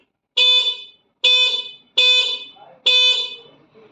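An electric scooter horn sounds four times in a row, short loud electronic beeps with a bright buzzing tone, close up, separated by brief gaps of silence.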